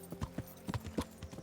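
A horse's hooves clip-clop at a walk in Kingdom Come: Deliverance, a quiet, steady sequence of about eight soft thuds in an uneven rhythm.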